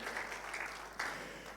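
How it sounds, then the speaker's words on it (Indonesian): A congregation at a church service claps in a short burst of applause, soft and somewhat distant, swelling briefly again near the end. "Mari berikan tepuk tangan."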